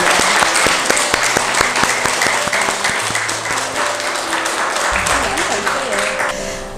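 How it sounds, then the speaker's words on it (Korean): Hall audience at a Won Buddhist temple lecture event claps loudly and steadily for two speakers, dense applause running throughout with a musical tone sounding beneath it. "큰 박수로 두 분께 감사의 마음을 전하겠습니다."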